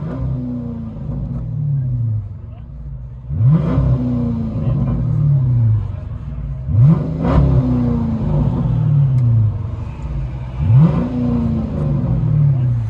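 A 2006 Chrysler 300C with a 5.7L Hemi and dual exhaust through Dynomax Race Bullets revs from inside the cabin, four deep rising blips swelling and falling back to a low idle rumble.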